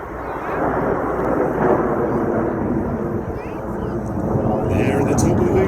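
Red Arrows jets flying a formation loop at the 2019 New York airshow, a loud continuous roar of engines that swells and holds, with commentary and crowd voices underneath.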